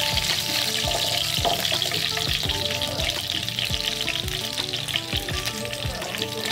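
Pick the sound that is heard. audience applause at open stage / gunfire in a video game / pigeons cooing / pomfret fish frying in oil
pomfret fish frying in oil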